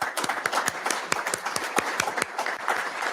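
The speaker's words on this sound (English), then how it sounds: "So let's give a hand to our panel." A conference audience at an AUSA Army Aviation hot-topic session applauds a panel, with dense, steady clapping from many hands heard close and lasting throughout.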